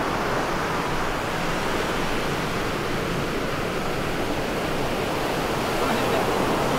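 Sea waves wash onto the beach at Kamakura in a continuous broad roar of surf, loud and close, with no break across the whole stretch.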